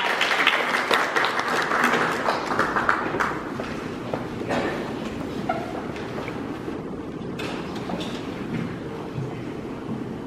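Crowd applause at a gallery opening ceremony for an international exchange photo exhibition, dense sustained clapping that starts loud and gradually thins and softens over about ten seconds, with no talking.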